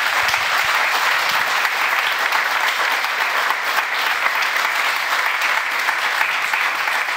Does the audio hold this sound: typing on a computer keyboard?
no